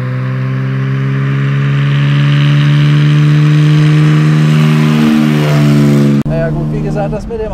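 A 1971 Mercedes 250 CE W114 coupé engine with an exhaust needing repair holds a loud, high, steady rev with a strong droning tone, then cuts off abruptly; a voice comes in briefly afterward.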